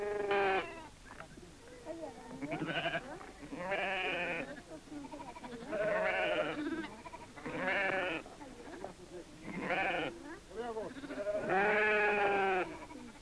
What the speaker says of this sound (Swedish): På de vida fjällhedarna strövar fåren.